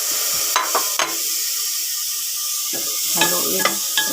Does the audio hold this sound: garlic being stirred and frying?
yes